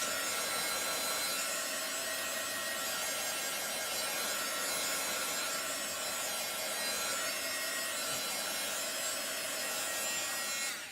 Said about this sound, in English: I'm just going to use my heat tool or a hair dryer